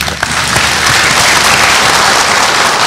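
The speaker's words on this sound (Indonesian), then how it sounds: "tepuk tangan buat Dr." Studio audience applauding Dr. Dimas, a doctor appearing on a skin-disease health program; dense, steady clapping holds at a loud, even level for the whole stretch, with no voices over it.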